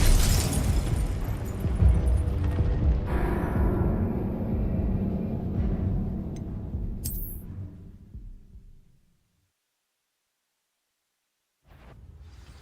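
Explosion spells cast in Hogwarts Legacy: a loud burst that rolls and slowly fades over several seconds into silence, then a fresh rumble returns near the end.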